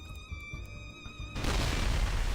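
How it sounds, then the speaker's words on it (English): Enemy aircraft burning and exploding in a video game: after a stretch of tonal game music, a sudden dense, roaring blast of noise takes over and stays loud to the end, with no talking. "Thick smoke engulfs our vision as enemy aircraft burns and explode."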